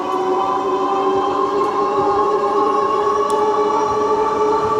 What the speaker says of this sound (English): I think the whine that you hear is more of the tires than it is the actual motor